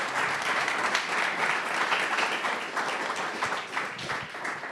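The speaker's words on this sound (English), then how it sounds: "How about another round of applause for Peter?" An audience applauds steadily after a pitch at a pub talk event, a dense wash of many hands clapping at once, sustained and even throughout.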